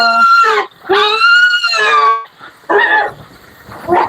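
Loud squealing, grunting sow calls in several bursts, with harmonic whiny cries up close and shorter rough grunts following.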